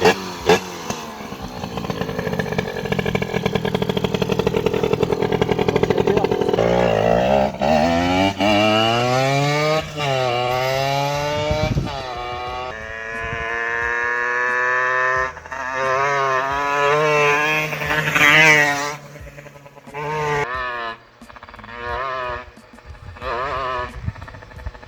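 A 50cc motorcycle with an aggressive look rides past, its small two-stroke engine revving up and down through rising and falling gear pulls, loud and close for most of the stretch before easing off with gaps near the end.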